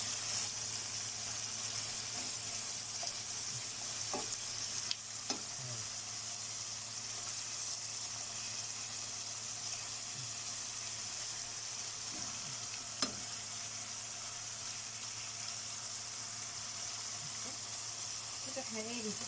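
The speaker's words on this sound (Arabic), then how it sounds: "تسيبي كده الكبده بتاعتك في الجريل او الطاسه اللي عندك ايا كان" Slices of beef liver sizzle on a grill pan in a steady, moderately quiet crackle and hiss that runs throughout, with a few faint clinks and a voice talking over it.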